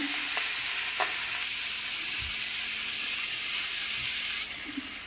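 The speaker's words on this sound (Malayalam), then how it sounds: "ഇനി നമ്മൾ ചക്ക ഇതിലേക്ക് ഇടുകയാണ്" Jackfruit frying in a pan gives a steady, close sizzle and hiss of hot oil with a few soft stirring knocks, continuous and fairly quiet, with no talking.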